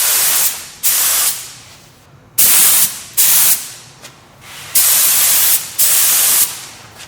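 Spray gun coating a plastic bumper cover, fired in a series of short loud hissing bursts, each about half a second to a second long, separated by brief quiet gaps, close up with no talking.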